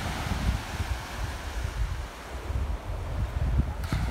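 Small waves wash softly over sand at Trunk Bay beach on St. John in the US Virgin Islands, a gentle continuous hiss and rumble with light wind noise and no voices.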